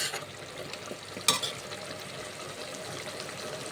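Tender drumsticks cook in a tomato curry pulp, giving a soft, steady bubbling simmer, with one brief clink of a utensil.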